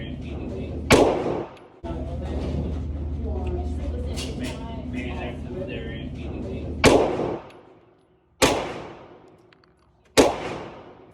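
Gunshots at a shooting range: four sharp, loud reports spread unevenly across the stretch, each dropping quickly into near quiet, with someone talking in the gaps, including a droning stretch under his voice early on.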